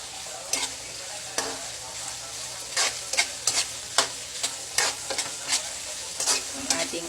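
Chopped shrimp sautéing in a pan for a chayote stir-fry, with a steady sizzle broken by repeated scraping stirs of a utensil, close and fairly loud, with no talking.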